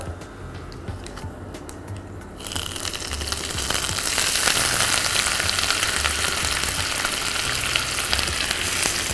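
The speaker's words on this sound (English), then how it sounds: "I'm going to be adding my ginger" Grated ginger drops into hot oil with chilli powder for a tangy ginger pickle. A quiet background gives way to a loud, sustained frying sizzle that stays dense and steady to the end.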